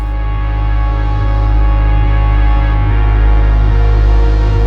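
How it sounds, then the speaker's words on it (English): A dense Moog Matriarch synthesizer drone with a steady, punchy bass pulse up front and softer pads sitting farther back, loud and continuous throughout. "The bass pulse is nice and in your face, and the pads are a little bit more distant now"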